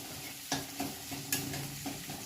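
Green chillies frying in oil with ginger-garlic paste for noodles, a steady close sizzle broken by a few sharp stirring scrapes against the pan, no voices.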